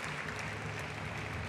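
Sustained applause from a crowd at a university graduation ceremony in Kigali, Rwanda, a dense steady clatter of many hands clapping at even loudness throughout, with no voices over it.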